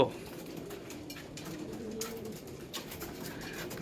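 Pigeons coo softly and continuously indoors in a room, several birds murmuring at moderate distance with occasional light rustles and no talking.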